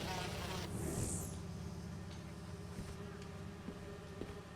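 A swarm of bees buzzes inside a honeycomb in the video game Spider-Man 2, a dense, steady drone close by with a brief higher whine near the start.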